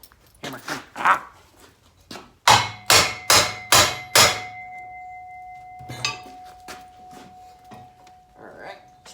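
A hammer striking a metal part in a workshop: five loud, evenly spaced blows in a row, followed by a lingering metallic ring and a few softer knocks, with brief voice sounds around them.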